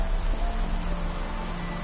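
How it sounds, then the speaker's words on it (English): Steady rain in Witcher 3, a continuous broadband hiss of falling drops with a low background hum, constant and moderately loud throughout with no speech. "Looks like rain."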